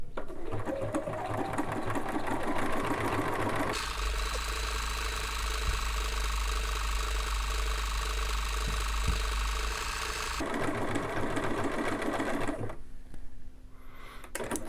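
Bernina sewing machine running a wing-needle entredeux stitch with foot #1, a steady close mechanical whir and rapid needle chatter lasting several seconds, starting and stopping cleanly.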